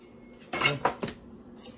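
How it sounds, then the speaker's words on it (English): A knife dices avocado for guacamole, giving a few close, distinct knocks and scrapes against a hard surface with short quiet gaps between them. "we're taking our knife, we're going through it, pushing, making nice little diced pieces."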